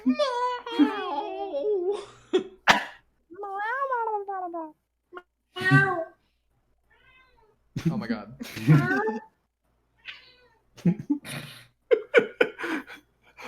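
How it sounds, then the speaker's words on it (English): Cat meows in the video game The Great Ace Attorney ring out close, several drawn-out cries mixed with gasping, startled voices reacting between them. "Meow. Sound effects."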